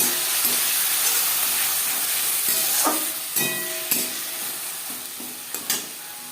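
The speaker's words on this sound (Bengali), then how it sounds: "দিয়ে দেব মাছের তেল আর দিয়ে দেব এখানে আমি একটা টমেটো বাটা অ্যাড করলাম" Tomato paste hits hot fish oil with fried onion in a pan for macher tel chorchori, giving a steady close sizzle and hiss with occasional stirring clinks and sputters, no talking.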